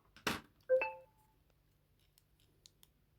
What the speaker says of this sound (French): j'ai eu des notifications, j'ai coupé le son